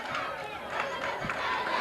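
A crowd of Norristown students cheers and shouts at a 1984 high school soccer bowl game against Kennedy Kenrick, a steady roar of mixed voices with louder swells, heard from a distance.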